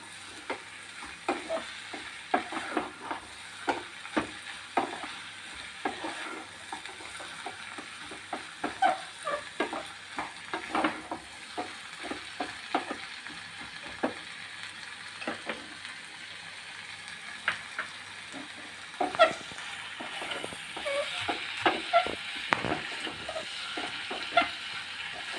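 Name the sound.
frying and stirring with salt and turmeric powder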